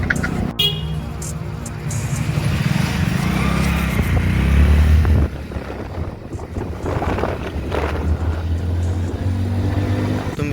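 A motorcycle rides along a canal road toward the Rann of Kutch, its engine drone steady under heavy wind buffeting on the microphone, with a short toot partway through.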